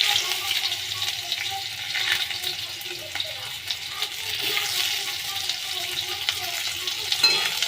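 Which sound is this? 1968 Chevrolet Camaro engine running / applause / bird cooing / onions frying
onions frying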